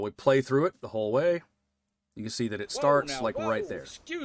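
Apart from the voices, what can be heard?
None of the usual background noises is heard.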